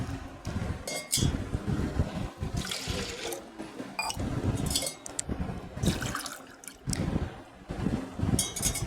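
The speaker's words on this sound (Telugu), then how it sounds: "ఆ గ్లాస్తో రెండు గ్లాసులు వాటర్ అనేది అయితే పోసుకోవాలి" Water pours and splashes into a cooking pot in uneven bursts, two glassfuls measured in, with occasional clinks and knocks of a vessel close by.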